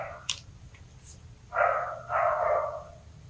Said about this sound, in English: my neighbors let their dogs out.